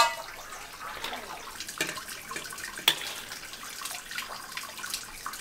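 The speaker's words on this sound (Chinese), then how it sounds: "把它捞出来清洗干净" Tap water runs steadily into a sink while boiled pork belly is rinsed clean, a soft, faint splashing hiss with small irregular splashes.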